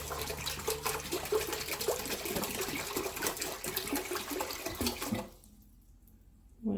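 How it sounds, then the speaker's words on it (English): Distilled water pours steadily into a pot for about five seconds, a dense continuous splashing rush that stops abruptly and leaves near silence. "we're going to put our distilled water in"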